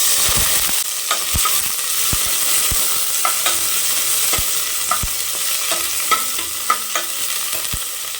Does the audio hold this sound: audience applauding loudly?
no